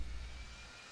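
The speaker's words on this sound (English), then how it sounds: "I heard another plane like below us that just flew by." Airplane passing by in the flight simulator game Infinite Flight, a brief loud engine rumble that starts strong and fades slightly as it goes past.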